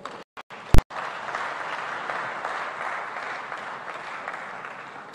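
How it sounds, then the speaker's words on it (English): Audience applause at an African food systems forum, a steady broad wash of clapping that holds for several seconds after a few brief sharp knocks at the start. "Give her another round of applause, ladies."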